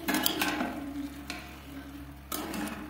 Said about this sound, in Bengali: বেগুনটা সুন্দর সুন্দরভাবে মিশিয়ে নিয়েছি